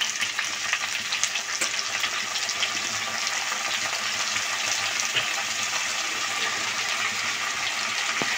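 Potatoes go into a pan of onions frying in oil, giving a loud, continuous bright sizzle with occasional stirring scrapes, close and steady throughout with no talk.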